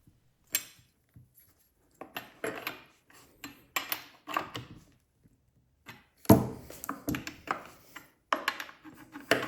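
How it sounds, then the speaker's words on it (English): Metal tool work on a Stihl 039 chainsaw as the guide bar nuts are tightened: a run of sharp clicks, scrapes and clanks in irregular bursts, close and fairly quiet, with a louder cluster of rattling near the end and no talk. "Then tighten the front bar nut first,"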